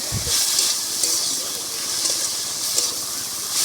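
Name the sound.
kolai greens frying in a pan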